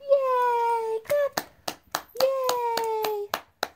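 A small child claps hands at home, a handful of sharp, separate claps spaced irregularly between an adult's high, drawn-out cheering voice, close and fairly loud.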